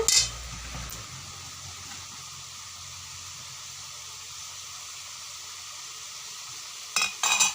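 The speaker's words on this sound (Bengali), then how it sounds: "এই মাছগুলো রান্না করব তো আমরা মশলা কষাচ্ছি" A spice masala for fish curry is being stir-fried, giving a steady low sizzle and hiss that runs nearly the whole time. A few louder clatters of stirring come at the start and near the end.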